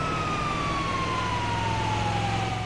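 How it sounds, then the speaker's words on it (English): A wailing emergency siren, an ambulance in Grand Theft Auto 5, holds a single slowly falling tone over a constant low engine drone, loud and close with no talking. "This is how you nick an ambulance in Grand Theft Auto 5"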